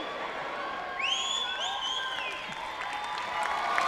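An audience at a comedy cabaret show applauds and cheers steadily, with whoops and whistles rising over the clapping.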